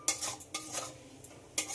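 Spices such as cumin and coriander being stirred in a pan, with a spoon scraping against the metal in several short, quiet strokes and no voices.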